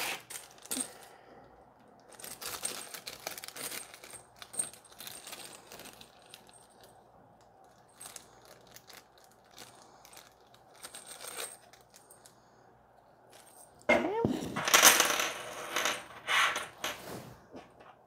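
Small M3 by 30 metal screws clink and rattle as they are dropped and handled, a series of light, close metallic taps with a louder burst of clattering near the end, no talking.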